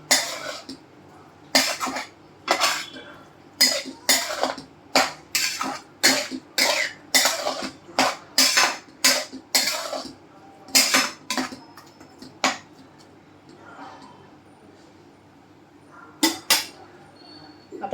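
Carrot halwa stirred in a pan just after a cup of milk is poured in, a run of sharp, regular scraping and clinking strokes of a spoon against the metal, close and fairly loud, thinning out toward the end.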